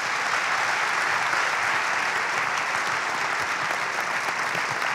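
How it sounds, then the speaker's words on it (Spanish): Sustained applause from an audience at a formal commemorative ceremony, dense and even clapping from many people filling the whole stretch without pause or talk. "Un fuerte aplauso."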